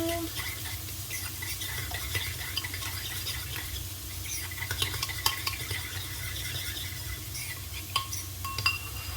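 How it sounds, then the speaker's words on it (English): Food stirred in a pan with a spoon for a chermoula chicken loaded naan, a low steady sizzle under frequent light scrapes and clinks of the spoon, close and without talk. "So give that a good stir like so."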